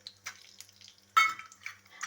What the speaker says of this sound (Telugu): ఇలా ఇవి పోపు దినుసులు చిటపటలాడేటప్పుడు